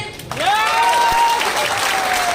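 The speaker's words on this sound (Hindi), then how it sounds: "मैं सर के पड़ोस में रहता हूँ, एक बार ताली बजाएंगे।" Audience applause at an RCM achiever introduction event, steady broadband clapping that swells and sustains throughout, with a whistle-like tone running above it.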